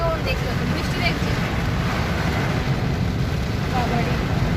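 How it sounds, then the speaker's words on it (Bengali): Heavy rain pours down steadily in Shaktigarh, a dense continuous wash of broadband hiss at even loudness for the whole stretch, with no voices over it. "হ্যাঁ বাপরে কি বৃষ্টি হচ্ছে, ঝমঝম ঝমঝম করে বৃষ্টি হচ্ছে"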